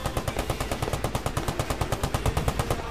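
Rapid sustained bursts of Browning machine gun fire in the Post Scriptum war video game, loud and continuous with evenly spaced shots for three seconds.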